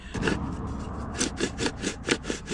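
A bait grinder chews through malty, chocolatey carp boilie dumbbells with a steady rasping, crunching churn, rising in louder rhythmic pulses as the handle turns, close and alone without talk.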